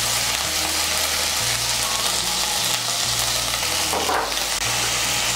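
Medium-sized tomato paste sizzles in hot oil in a pan while a vegetarian shola kochu curry is cooked, a steady crackling fry with a low hum running underneath and a brief stirring scrape partway through, with no talk.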